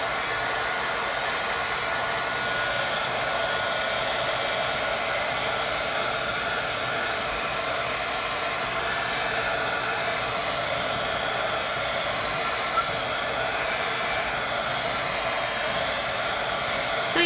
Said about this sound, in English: Excuse me while I dry the gesso really fast.